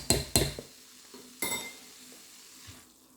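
Cauliflower fried rice simmering on low heat in a pan, with a few clattering stirs of a utensil early on, then a quiet steady sizzle.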